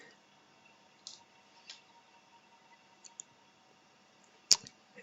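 A few sharp, faint computer mouse clicks spaced across a quiet stretch, with one louder click near the end while setting up a custom domain SSL binding in Azure App Service.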